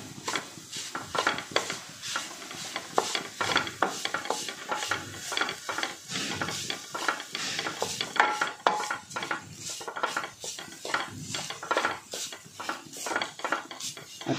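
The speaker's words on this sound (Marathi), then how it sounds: "इथं 2 नारळाचा चव जो मी काढून घेतलेला आहे तो घालायचा आहे. व हा यामध्ये परतून घ्यायचा आहे." Grated coconut from two coconuts being sautéed in a pan as filling for wheat-flour steamed modak, with steady scraping, stirring and clinking of a spoon against the pan and a soft sizzle throughout, no talking.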